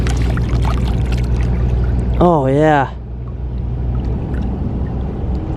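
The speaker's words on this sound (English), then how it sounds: "Let's wash it off just a little bit." River water splashes and trickles as an old, cracked inkwell is washed on the Thames foreshore in London. The water sound stops when a voice speaks briefly, leaving only quieter ambient noise.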